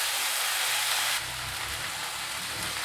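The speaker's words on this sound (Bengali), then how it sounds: "একটু আঁচটা কমিয়ে কমিয়ে মশলাটা সাঁতলিয়ে নেব" Spices sauté in a small amount of oil over low heat, giving a soft, even sizzle that grows slightly louder partway through and then holds steady, quiet and close, with no voices.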